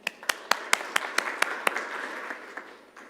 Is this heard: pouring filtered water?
no